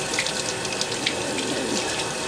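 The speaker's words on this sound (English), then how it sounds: "rinse with nice warm water" Warm tap water running steadily into a sink while makeup brushes are rinsed, a continuous close splashing hiss with no talk.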